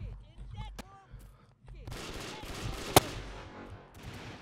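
Gunfire against crates in the video game Brick-Force: dense, noisy firing with one sharp loud crack, following a quieter stretch with a few brief tones.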